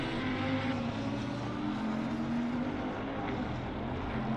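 A Bentley GT3 race car in Assetto Corsa Competizione at Laguna Seca: a steady, droning engine note holding a nearly constant pitch, loud and continuous, with no talk.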